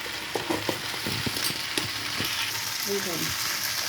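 Pasta with turmeric being stirred in a frying pan, with a steady sizzle under scraping and clinking of a utensil against the pan, close and continuous, with no talking.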